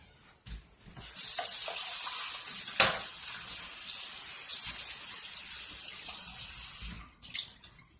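Steady rush of green tea poured through a strainer while making hot process soap, a continuous splashing flow lasting several seconds with a brief clatter midway, then tapering off.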